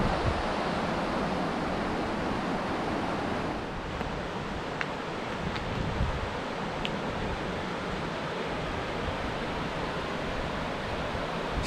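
The Roya river rushes beneath a bridge, a dense, continuous roar of flowing water close by, steady and broadband, with a few faint higher ticks partway through and no talking.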